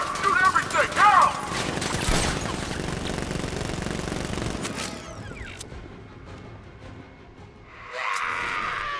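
A deployed sentry gun fires in Batman Arkham Knight, a loud rattling burst over the first few seconds mixed with game voices, then fading into quieter mechanical clatter and ambience.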